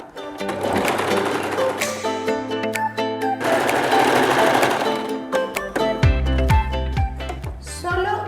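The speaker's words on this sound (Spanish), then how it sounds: "vamos a coser con nuestra máquina de coser que tenemos en casa, costura recta" A home sewing machine stitches a straight seam on a decorative cushion, its motor whirring in fast, steady bursts with brief pauses, over background music.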